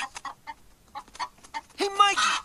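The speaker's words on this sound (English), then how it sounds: "Hey, Mikey, keep your chickens out of the barn, man." A cartoon chicken clucks in a short burst of squawky cackles near the end, following a few seconds of talking.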